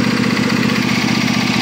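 A Troy-Bilt Mustang riding lawn mower idles with a loud, steady, close engine drone and a low rhythmic throb, running alone with no speech.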